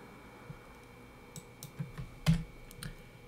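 A few scattered computer keyboard keystrokes click quietly and irregularly, close by, with short gaps between taps.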